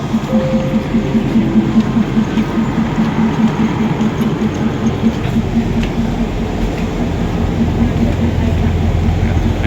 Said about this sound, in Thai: นี่เป็นบรรยากาศภายในรถไฟนะครับ